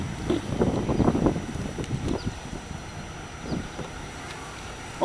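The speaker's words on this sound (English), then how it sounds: "this wind keeps..." Wind buffeting an outdoor microphone at a drill team event, heavy low rumbling gusts that are strongest early on and then ease into a softer, uneven blowing with occasional thumps.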